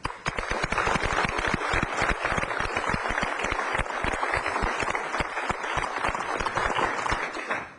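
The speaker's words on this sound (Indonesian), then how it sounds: "Marilah kita sekarang berikan tepuk tangan" A crowd at an Indonesian gathering honoring relief volunteers breaks into sustained applause, dense many-handed clapping holding steady and loud from start to finish.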